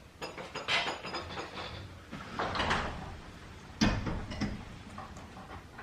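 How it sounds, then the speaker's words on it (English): A garage door rattles and scrapes in several short bursts as it is lifted, the clatter close and fairly quiet. "lift the door open just a little bit"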